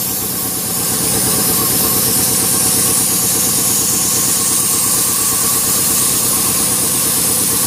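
A Chevrolet Orlando LPG engine idles roughly at a standstill, misfiring, with a loud, close, steady low rumble and a throbbing, shaky pulse carrying the vibration throughout.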